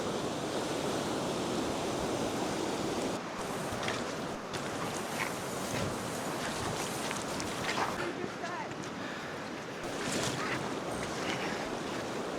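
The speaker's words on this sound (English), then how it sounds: "The water's moving so fast." Fast-flowing river water in winter, right at freezing with snow and ice on the banks, rushes as a steady, loud broadband wash throughout, with some wind buffeting the microphone.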